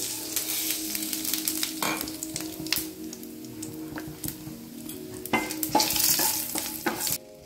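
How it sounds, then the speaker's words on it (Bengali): Dried red chilli, bay leaf and whole cumin hit hot oil in a pan, giving a busy crackling sizzle broken by repeated metal stirring clinks and scrapes throughout, close and fairly loud, with no talk. "এই গরম তেলের উপরে দিয়ে দিচ্ছি শুকনো লঙ্কা, তেজপাতা আর একটু গোটা জিরে।"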